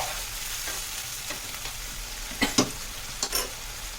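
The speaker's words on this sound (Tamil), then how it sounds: "இதையும் நல்லா கிளறிக்கலாம்." Oil sizzles quietly in a pan while a spoon scrapes and stirs a thick onion paste, with a few soft clinks near the end.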